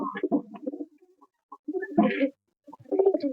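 Ordinary yellow-eyed domestic pigeons give bursts of low, throaty cooing at close range, separated by brief quiet gaps, with no one speaking.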